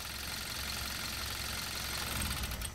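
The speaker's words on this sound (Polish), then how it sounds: "Gaz silnik." A Kia Sportage 1.6 GDI engine runs under throttle during an oil change with a flush additive, giving a steady mechanical hum with a faint knocking texture and a slight rise near the end, close and continuous.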